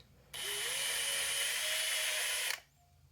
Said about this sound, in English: so you don't start drilling into the case